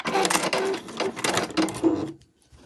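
A domestic sewing machine runs in short bursts while back stitching at the end of a seam on a fabric cover, its motor whirring and needle chattering close by before stopping.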